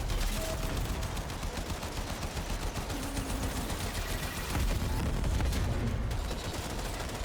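Rapid continuous gunfire from the Warframe video game, dense overlapping shots rattling steadily throughout at fairly low volume, with no talk.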